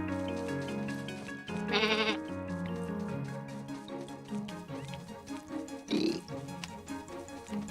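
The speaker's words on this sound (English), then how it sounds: "Yes, we have a sheep." Sheep bleating in the farming video game Staxel, two short bleats rising over steady game music.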